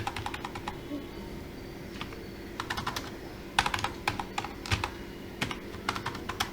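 Computer keyboard keys tapped while adding spaces to SQL code, heard as sparse single taps and quick bursts of keystrokes, close and fairly quiet, with no talking.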